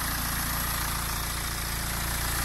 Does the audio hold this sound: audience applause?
no